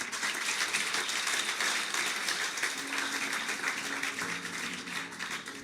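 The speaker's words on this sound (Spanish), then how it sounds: "bríndele un fuerte aplauso al Señor." A church congregation at an anniversary service claps loudly together, a dense and continuous wash of applause that tapers slightly toward the end.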